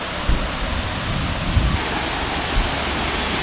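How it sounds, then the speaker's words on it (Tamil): Manimuthar waterfall near Tirunelveli, running low after a dry spell, gives off a steady, close rush of falling water with a few soft thumps in it. "மணிமுத்தாறு ஃபால்ஸ் வந்தாச்சுங்க."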